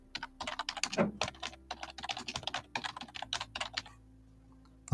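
Rapid typing on a computer keyboard, with dense, irregular clicking bursts for about four seconds before the keys fall quiet.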